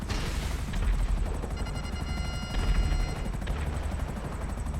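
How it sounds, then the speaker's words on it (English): An Akula helicopter in Grand Theft Auto V fires homing missiles, with a steady whirring rotor drone under repeated rapid bursts and deeper booms. "Obviously, you've just seen the homing missiles."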